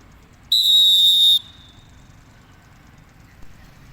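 A football referee blows one sharp, loud whistle blast of just under a second to signal a penalty kick, followed by quiet background.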